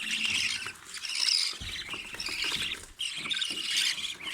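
Baby birds in a nest, many chicks chirping and squealing in a rapid, shrill chorus at close range, rising and falling in bursts.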